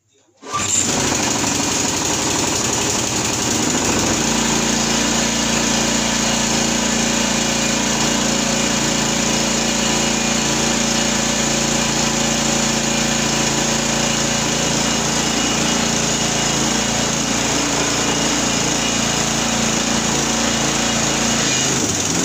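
A Viking MB505 lawn mower's small engine starts after a brief pull and then runs steadily and loudly with a constant drone, close by, with no talk over it.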